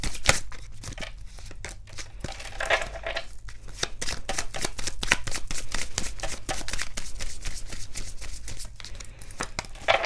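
A deck of tarot cards shuffled nonstop, dense papery riffling and slapping close up, loud and steady with no talk.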